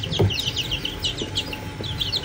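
A small flock of chickens clucks and chirps close by at feeding time, a busy run of quick, overlapping calls with soft background movement.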